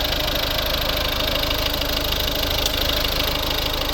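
A 2011 Mazda 5 with a 1.6 D2 diesel engine and manual gearbox idling, giving a steady, close, continuous clattering diesel drone with no change in pitch.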